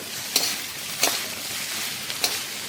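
Green chillies frying in a pan for chicken hakka noodles, a steady sizzle with three sharp scraping stirs spaced through it, close and alone.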